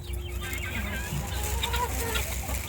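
A few chickens cluck and murmur nearby on a farm with rabbits, soft intermittent calls over a low background hum.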